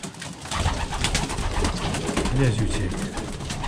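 A racing pigeon in a loft, a blue bird, gives soft, repeated cooing close by while someone talks over it.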